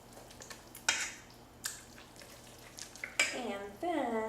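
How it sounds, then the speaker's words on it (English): Crab cake ingredients being stirred in a bowl, with soft scraping and a few light clinks of a utensil against the bowl, faint and close, with brief louder knocks near the end. "So we'll give this a good stir."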